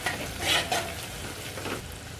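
Red chili powder is stirred into frying onion, tomato and chili over low flame, a steady close sizzle broken by a few soft scraping strokes of the spoon.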